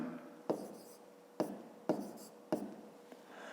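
Pen strokes on paper while writing a math answer for a fifth-grade exercise, several short scratchy taps spaced unevenly, close and quiet, with no talking.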